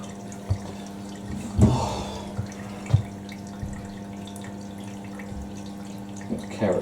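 A Hoover A3060 Electronic 1100 washing machine fills with water, a steady rushing flow broken by a few sharp clunks and knocks nearby.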